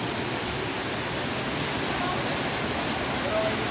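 A small waterfall at Inambakan Falls in Moalboal, Cebu pours as a steady, broadband rush of water that fills the whole clip at an even, moderate level.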